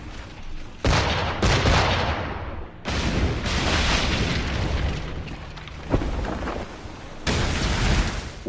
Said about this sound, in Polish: Jeden strzał by wystarczył z armaty.